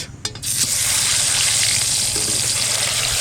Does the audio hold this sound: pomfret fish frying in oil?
yes